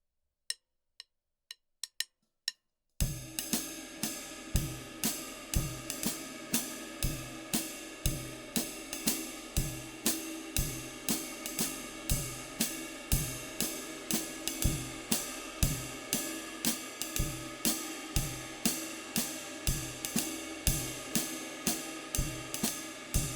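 A ride cymbal plays a swinging jazz pattern in five with an added skip note, bright and continuous, following a quick few stick clicks counting in.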